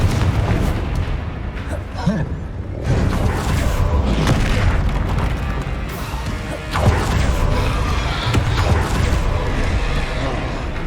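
Confringo fire spell blasts in the Hogwarts Legacy game, a dense run of booming explosions and crashing impacts layered with creaks and battle noise, loud and continuous throughout.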